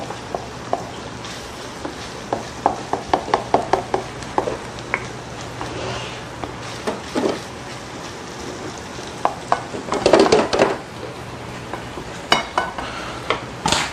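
Ingredients being sautéed in a pan, with squash about to go in: a steady low sizzle and frying hiss under repeated spoon scrapes and stirring clatter, close by, with a few louder bursts of metal knocking toward the end.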